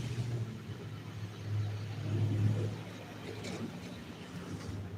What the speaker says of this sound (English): that FedEx truck sounds awful